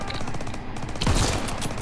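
Dense bursts of gunfire from Call of Duty: WWII, loud and continuous with rapid overlapping shots, a heavier blast near the middle, and a voice faintly underneath.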